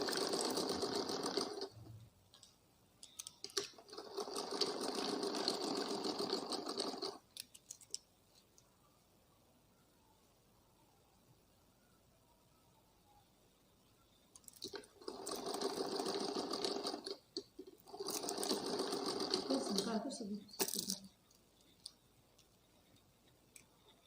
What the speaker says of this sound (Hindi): एक बराबर इसके सिलाई लगा देते हैं।